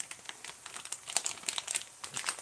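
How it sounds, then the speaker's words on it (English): Kitchen scissors snip through sausage into small chunks for Halloween chili, giving a quick run of crisp, crinkly clicks and cuts, close and fairly quiet with no talking. "I'm just going to cut the sausage with the scissors"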